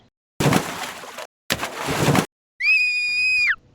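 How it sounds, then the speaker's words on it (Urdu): A cartoon frog screams inside a well, a loud, sharp cry with an echoing ring, heard after two bursts of splashing as characters jump into the well. "کنویں کے اندر کسی کے چیخنے کی آواز آئی"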